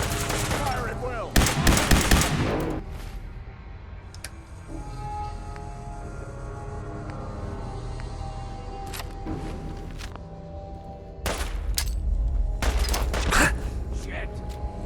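Rapid bursts of gunfire from a Fallout 4 firefight crackle in loud clusters near the start and again toward the end, separated by a quieter stretch of mechanical rumble and background shouting.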